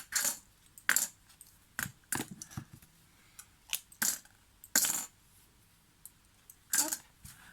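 Small metal binder clips being pulled off glued paper blocks during scrapbook notebook making, a series of sharp metallic clicks and clinks spaced irregularly, close and fairly loud, with a few brief quiet murmurs between.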